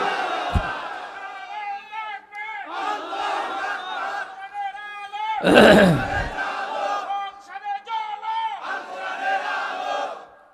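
A large crowd at an outdoor Bangladeshi Islamic waz gathering in Patuakhali roars a unison response to a takbir call, loud, chanted shouts rising and falling in several waves, with one sharp surge in the middle.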